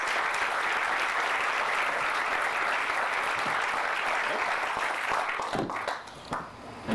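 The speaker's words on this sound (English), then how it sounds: "You get applause and presents." Warm, sustained applause from an audience at an award ceremony fills the room, many hands clapping evenly before tapering off and scattering near the end.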